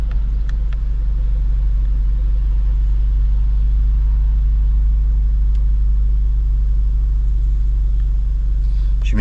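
Audi S3 8V engine idling steadily just after being started, a loud constant low rumble with no revving, heard alone without voices.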